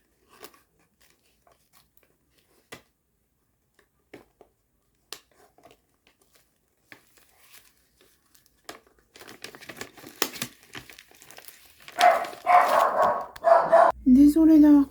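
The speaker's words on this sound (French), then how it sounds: "c'est mon chien qui a aboyé." A pet dog barks indoors in a few loud bursts near the end, following quiet rustling and scattered light taps.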